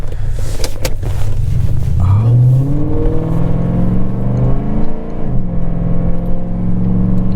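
The engine of a 2003 Mercury Marauder, a rear-wheel-drive sedan with a posi rear, accelerates hard: a loud, close, rising roar that climbs through a gear change and holds steady, with faint voices early on.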